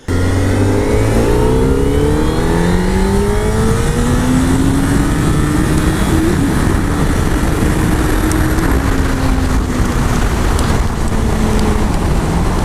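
A Honda CBR600RR or CBR1000RR sport bike revs hard and accelerates through rising gear pulls, loud and close with constant wind rush throughout, and no speech.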